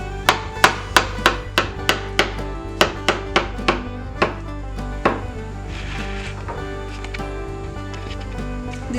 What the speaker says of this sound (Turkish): ince ince dilimliyorum